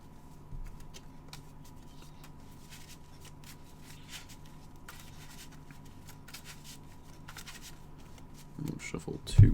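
A deck of cards is shuffled by hand during an online card game tournament. Soft, rapid riffling and patter run steadily for several seconds near the microphone, then some louder handling follows.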